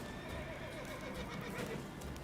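Horse whinnying in The Witcher 3 video game, a fairly faint neigh against game ambience with hoof clip-clops mixed in.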